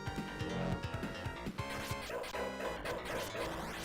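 A dog barks in a Sega Genesis ninja platformer set in modern-day New York City, the sharp yaps landing over loud, dense game music and crashing effects.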